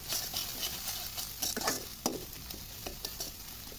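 Egg and onion fry in a pan for noodles with a steady close sizzle, broken by scraping stirs and soft taps of the utensil against the pan.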